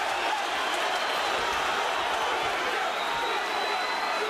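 A boxing arena crowd roars and cheers for Roy Jones Jr in a continuous loud wash of noise, with no breaks or distinct voices standing out.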